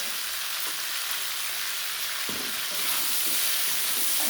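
Pumpkin and potato pieces frying in a pan as Malabar spinach goes in for a fish-head chorchori, a steady hissing sizzle that swells louder near the end, with a soft stir.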